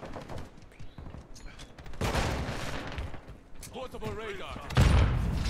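P90 (PDSW) gunfire in Modern Warfare 2, heard as rapid automatic bursts and clattering shots mixed with game effects, with a player talking and in-game radio voice over the action.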